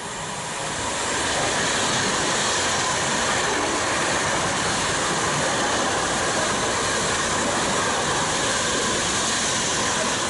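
A non-stopping eight-coach train rushes through platform 4 of a station, a loud, steady broadband roar that fills the whole stretch without letup.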